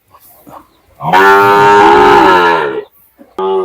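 A Sahiwal breed bull calf lets out one long, loud, close moo, followed by the start of another; soft background sounds before it.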